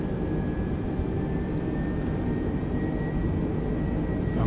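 Airbus A320 jet engines taxiing at Gatwick in Microsoft Flight Simulator 2020, a steady, loud, unbroken engine drone with a faint high whine throughout.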